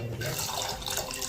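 Water pouring into a cooking pot while making pepper rasam, a steady, close splashing flow filling the whole short moment at even loudness.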